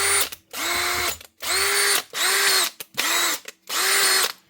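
A repaired brushed cordless angle grinder fitted with a new motor whirs up loudly six times in a row, each burst held for about half a second before spinning down, close by.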